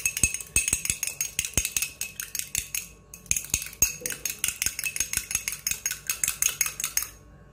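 Metal utensil rapidly clinking against a bowl while milk and egg yolk are whisked for brushing rice, green onion and egg pastries, a steady close rhythmic tapping of many quick strikes throughout, no talk.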